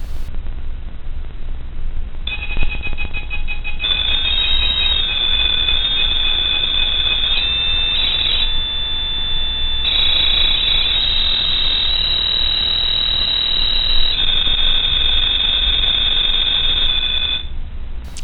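Electronic ghost detectors at a haunted inn in Santa Fe emit sustained high-pitched beeping tones that start after a few seconds, waver and stack in pitch, and persist loudly over a low background hum for most of the stretch.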